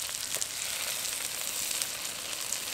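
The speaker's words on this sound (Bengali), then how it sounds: "এবার খুব ভালোভাবে এই মশলাটাকে কষিয়ে নেব" A spice paste of cumin, fennel and chili fries in oil in a pan, giving a dense, even sizzle with faint hints of stirring, quiet and without speech.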